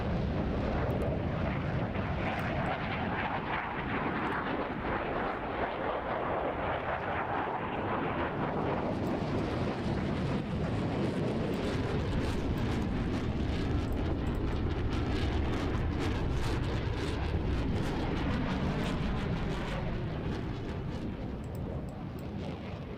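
A Super Hornet jet flying past in the video game Roblox during an airshow display, a loud, sustained roaring rush of engine noise that shifts in tone as it comes around, continuous for over twenty seconds.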